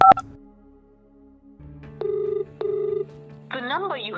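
A telephone rings twice in short, buzzing bursts and goes unanswered, followed by a warbling electronic tone; the line sounds close and clear against near silence.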